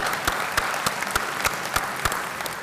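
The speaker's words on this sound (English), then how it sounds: "round of applause here." A graduation audience at a university stadium gives a round of applause: fairly sparse clapping with a few sharper, regularly spaced claps standing out over a soft crowd wash, moderately loud.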